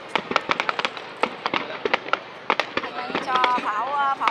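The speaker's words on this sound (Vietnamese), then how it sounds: "Cho pháo rơi này." Fireworks burst in rapid, irregular cracks and bangs at the Hung Kings Temple festival in Viet Tri, loud and close, with a voice talking briefly near the end.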